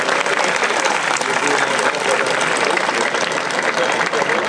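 Triathletes at a race briefing for the Bourg-en-Bresse triathlon applaud the volunteers, giving dense, sustained clapping from a large crowd that is steady throughout.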